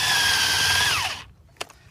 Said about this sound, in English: I'm going to drill a hole at a slight upward angle